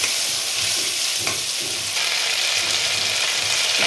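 Ginger and garlic paste added to onion paste and frying in a pan for a prawn malai curry: a loud, dense hiss of sizzling oil with a brief louder spurt as more goes in, then a steady crackle, close and without voices.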